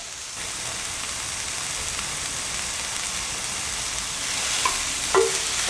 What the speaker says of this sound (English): I love the sound of an onion sizzling